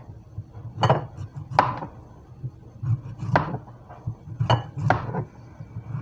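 A knife thin-slices summer squash on a cutting board, giving five or six crisp, separate chops spaced irregularly, close and moderately loud, with no talking.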